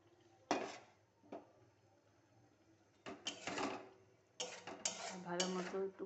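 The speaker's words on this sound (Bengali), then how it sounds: "ভালো মতো একটু কষিয়ে নেব।" Salt, turmeric and cumin powder sizzle in a pan as they are stirred and fried, with clinking scrapes of a spoon against metal in short bursts and a steady low sizzle between them, close and moderately loud.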